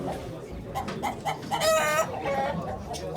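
Several chickens cluck and squawk close by at a poultry auction in Ankara, with a louder rooster-like crow in the middle over a murmur of background noise.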